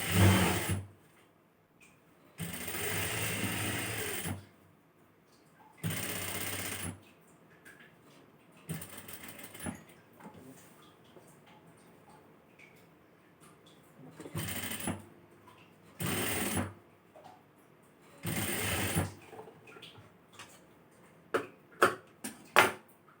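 A sewing machine stitches lace onto a chudithar neck in several loud, buzzing bursts of a few seconds each, separated by quiet pauses, with a few short ticks near the end.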